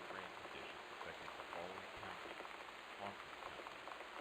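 Rain falls steadily in the video game Gone Home, a soft continuous patter on surfaces under a dull background hiss, quiet and even throughout.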